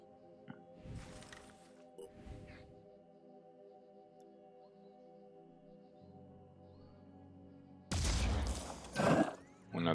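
A quick double shot from a weapon in the video game Phoenix Point, two separate sharp bursts of gunfire over a quiet humming background, followed by a louder crackling volley near the end.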